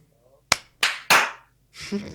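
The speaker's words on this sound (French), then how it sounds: "On l'applaudit une fois." Three sharp claps, one after another, each loud and close, followed by a short murmur of voices.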